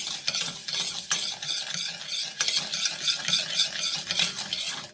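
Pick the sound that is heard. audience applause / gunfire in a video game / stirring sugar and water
stirring sugar and water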